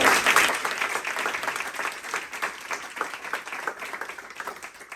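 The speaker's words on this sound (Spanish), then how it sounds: "Un aplauso bien fuerte y arrancamos." An audience at a branding training session at UNSaM claps at the start of the talk. The applause is loud at first, then thins and gradually fades.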